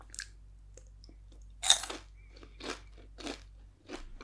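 Crunchy toffee popcorn is chewed up close in a quiet room, with a sharp bite followed by several loud, evenly spaced crunches against near silence.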